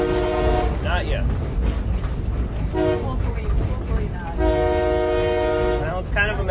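A train horn sounds loudly from the conductor's seat over the steady rumble of the moving train: a long blast, a short one, then another long blast.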